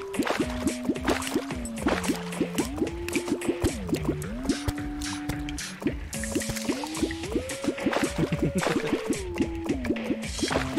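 Water flooding down in the video game Terraria, heard as steady drips, squishy liquid fills and gurgles with rising and falling pitched tones, continuous and fairly close, with no talk.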